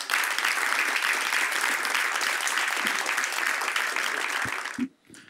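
Sustained applause from a seated audience at a French-language televised debate, loud and dense for about five seconds before cutting off abruptly near the end.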